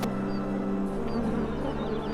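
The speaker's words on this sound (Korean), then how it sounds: "수령이 수백 년은 돼 보이는 고목 한가운데 야생벌의 집이 있습니다." Wild honeybees buzz steadily around a hive inside the hollow of a centuries-old tree, a dense continuous droning hum with a few passing insects flying close by.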